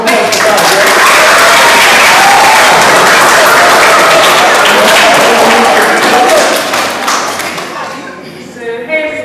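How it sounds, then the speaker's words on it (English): A school workshop audience of pupils claps loudly and steadily for several seconds, the dense clapping thinning and fading near the end as a voice begins. "Round of applause for that."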